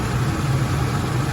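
A 1972 Oldsmobile Delta 88 Royale idles steadily, a low, even engine hum with a faint rhythmic throb, close by and with no talking over it.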